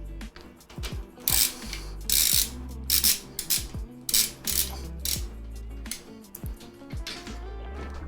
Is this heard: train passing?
no